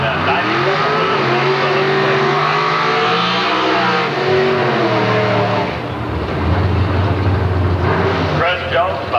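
A 1993 Ford Mustang drag car with a 351 engine roars down the dragway, its revving engine rising in pitch through the gears and then dropping, loud and close, with a track announcer talking over it.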